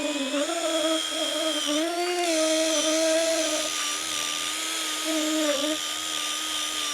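An eraser wheel on a drill whines against car paint, stripping LED strip glue, its pitch wavering and dipping as pressure changes, with no talk over it.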